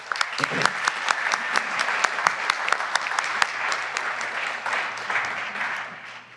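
An audience applauds Terrell and Mary Kay at the J. Terrell Brown Venture Challenge, a steady wash of many hands clapping with sharp individual claps standing out, sustained and close before tapering slightly at the end.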